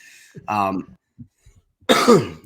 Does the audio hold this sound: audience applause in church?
no